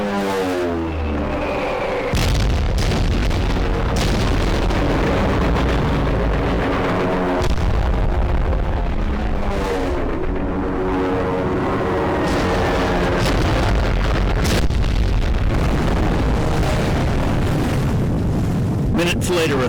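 Heavy bomb blasts and thunderous booms as dive bombers strike Japanese aircraft carriers, a dense, continuous barrage with repeated sharp impacts, loud and close, under a narrating voice.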